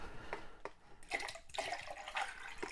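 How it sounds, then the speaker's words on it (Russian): Tap water runs into a container being filled for watering orchids, a steady splashing rush that shifts and surges in several bursts, close by and with no voices. "Так, сейчас я водички набираю."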